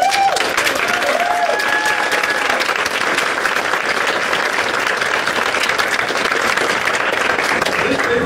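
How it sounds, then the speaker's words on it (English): School staff at a Salem Elementary public hearing receive sustained applause from the audience, a thick continuous wash of many hands clapping with a few faint voices and cheers mixed in throughout. "They really deserve the applause."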